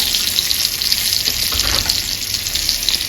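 Hot tadka (tempering) is poured onto chana palak chickpeas, setting off a loud, close, crackling sizzle that holds steadily throughout, with a brief swell midway and no voices.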